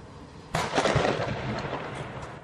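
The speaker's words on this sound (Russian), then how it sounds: "На видео, снятом очевидцами, полыхает и взрывается машина." A sudden loud burst erupts and gives way to crackling, roaring noise that rumbles on as a burning car explodes outdoors in Miass, Russia.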